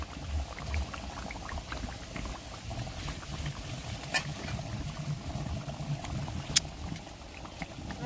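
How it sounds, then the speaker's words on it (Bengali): Fried koi fish going into a pot of boiling vegetable gravy with potatoes and cabbage, a steady low bubbling simmer with faint splashes and one sharp clink near the end, no voices. "ভাজা মাছগুলো ঝোলের মধ্যে দিয়ে দিচ্ছি"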